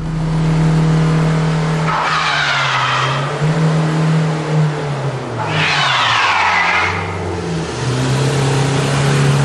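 A car skids on test ice with traction control switched off, its engine revving loudly and steadily while two long bursts of tire squeal rise and fade.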